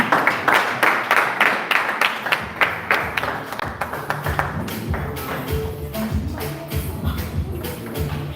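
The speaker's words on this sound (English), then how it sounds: "let's applaud them" Audience at a speech contest clapping for the judges, sharp hand claps thickening into steady applause from a fair-sized crowd, with faint sustained tones underneath and some shuffling.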